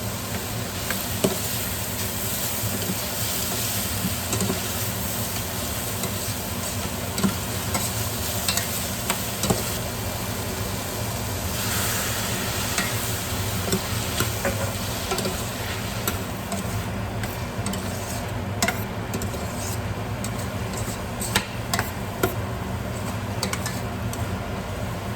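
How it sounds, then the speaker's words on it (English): Onions and vegetables sizzling in a pan as they are stirred, a constant close frying hiss with occasional clicks and scrapes, with no talking. "we do want this to sweat all the way down, especially those onions because they didn't get minced"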